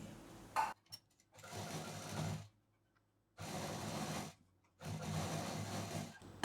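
A sewing machine runs in three separate bursts of stitching on a cloth bag's handle, each burst a steady mechanical whir lasting a second or more, with short pauses and faint clicks between them.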